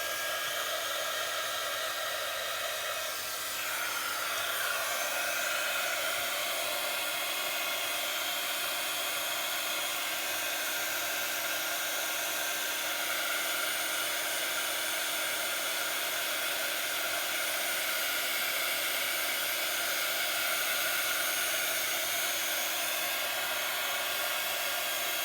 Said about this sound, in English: oh, I need to heat and emboss